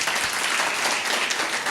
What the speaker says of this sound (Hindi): जितने लोग सुन रहे हैं एक बार ताली बजा दीजिए जोर से